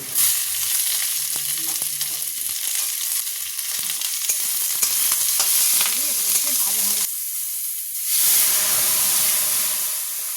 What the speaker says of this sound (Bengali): এবার কেটে ধুয়ে পরিষ্কার করে রাখা পালং শাকটা দিয়ে দেবো